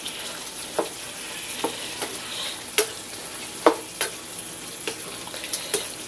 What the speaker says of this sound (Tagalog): Pwede na natin ilagay yung ating sayote.